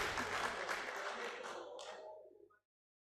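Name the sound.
round of applause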